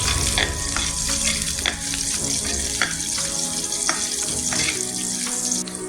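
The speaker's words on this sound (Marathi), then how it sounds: "4 लसूण आनी इल्लेशे आल्याचे कुडके आनी मातशें फ्राय करून घालुया" Four garlic cloves and a few pieces of ginger fry in hot oil for a Goan mushroom xacuti, giving a steady, close sizzle with periodic sharp stirring scrapes and a slight watery crackle.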